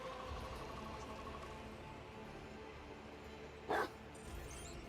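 A cyber mastiff in Warhammer 40K: Rogue Trader gives a single short, sharp bark, loud against a faint, steady background of game ambience.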